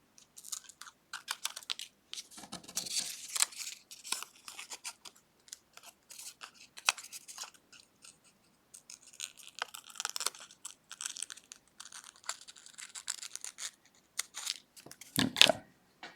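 Scissors snipping through paper, trimming just inside a drawn shape for a Day of the Dead textiles piece; short irregular crunchy cuts close up, separated by brief pauses, with no one talking.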